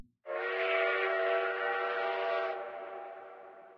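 An approaching train in the video game Zelle sounds a single long whistle, a sustained tonal blast lasting over three seconds that steps down slightly in pitch before fading.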